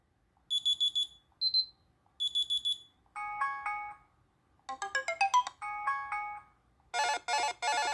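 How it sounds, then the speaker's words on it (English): A Samsung Galaxy S2 (GT-I9100) running CyanogenMod 11 plays a ringtone alone, a sequence of bright electronic melodic chimes and beeping tones in short bursts, fairly loud and close. "Ringtone."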